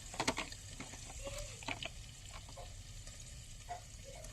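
Fish sizzling as it fries in a pan on a home kitchen stove, a steady crackling hiss throughout with a few sharper spits and clatters near the start, no talking.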